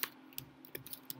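Soft, quiet keystrokes on a computer keyboard, several scattered clicks in about a second, close but faint.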